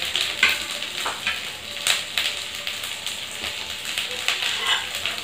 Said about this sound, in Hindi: दो मिनट के लिए भुनेंगे।